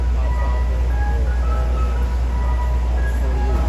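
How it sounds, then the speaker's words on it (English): An elevated metro train rumbles overhead in New York's Little Odessa, a loud continuous roar with faint squealing tones and steady low drone, no break throughout. "This town is literally under a metro."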